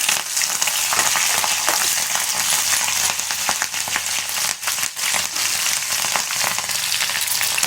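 Mustard seeds and green chillies fry in hot oil, giving a steady, close sizzle with scattered crackles and pops that runs the whole time without talk.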